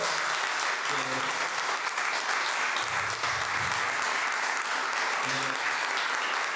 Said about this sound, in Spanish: Denle un aplauso al Señor Jesús, hermano